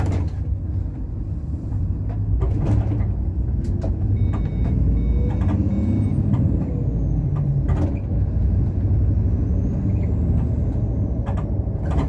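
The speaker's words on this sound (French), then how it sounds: "le Tector il fait beaucoup de bruit de turbale, je vais essayer de vous faire écouter un petit peu ça" A Tector truck engine runs with a heavy, constant low rumble while a thin turbo whine rises and falls above it, loud and close throughout.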